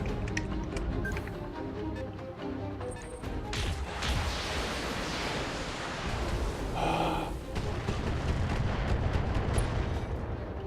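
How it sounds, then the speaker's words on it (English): A mech in the video game Battletech fires all its weapons in a loud, continuous barrage of heavy booming blasts and crashing impacts that rumble on for several seconds. "Firing all weapons."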